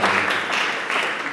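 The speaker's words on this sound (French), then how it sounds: "Je crois que je mérite les acclamations de votre part pour nous acclamer" Audience in a church setting breaking into sustained applause and cheering, a dense wash of clapping filling the short moment without pause.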